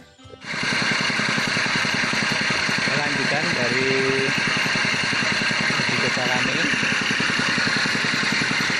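A turbine aerator driven by a 5.5 or 6.5 HP engine runs loud and steady with a dense, rattling drone throughout, while a person talks over it.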